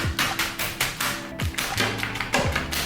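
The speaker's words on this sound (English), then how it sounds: "right now we have our wonderful puree that we just mercilessly beat" Fruit being pounded into a puree inside a bag for a Halloween drink, a series of close, heavy thumps in an irregular rhythm with short pauses between blows, no talking.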